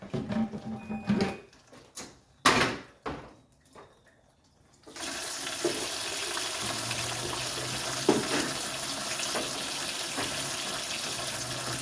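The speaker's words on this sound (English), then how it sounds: "All right, I'm draining the coolant." Coolant drains from a 1983 Mercedes 300CD, starting with a few knocks and clunks, then turning into a steady, loud rush of pouring liquid that runs on without pause.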